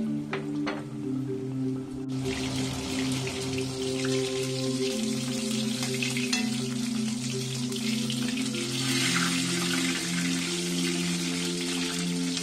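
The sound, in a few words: frying prawn-stuffed pumpkin flowers in oil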